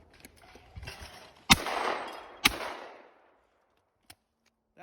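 A shotgun fires twice in quick succession at a true pair of sporting clays on an outdoor course, two sharp loud blasts about a second apart with a ringing tail, no talk.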